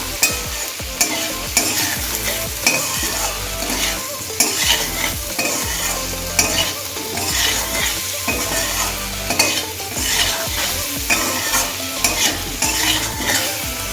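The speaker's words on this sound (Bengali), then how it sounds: "এবার সমস্ত উপকরণ একবার মিশিয়ে নেব ভালো করে" Mourola fish with turmeric and spices is stirred in a sizzling pan, with steady scraping and frying noise running throughout, close and fairly loud, with no voices.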